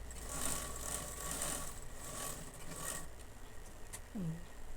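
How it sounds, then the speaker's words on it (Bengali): A sewing machine stitches the joined ends of a bolster pillow cover in a steady run of mechanical whirring and rattling over about three seconds, then stops; a brief low squeak follows. "মাথা দুটো জুড়ে একেবারে সেলাই করে নিচ্ছি"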